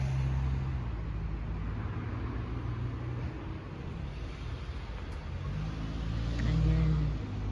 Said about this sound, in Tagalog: Yan yung sasakyan ng amo ko